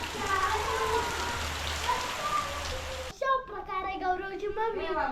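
Steady rain patters on a surface throughout, with a voice speaking over the downpour, more clearly in the final seconds.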